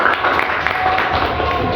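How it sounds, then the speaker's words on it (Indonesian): Classmates in a classroom clap for a student, a short, loud and fairly dense round of applause under a bit of background chatter. "Berikan tepuk tangan untuk Mas Fahri"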